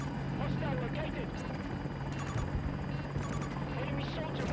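Helicopter rotor drone in Battlefield 2042 military gameplay, a steady loud hum running throughout alongside game radio chatter and battle noise.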